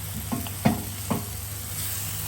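Whole olives hitting a hot frying pan, a few soft crackling sizzles and light clatters over a steady hiss of frying, no voices.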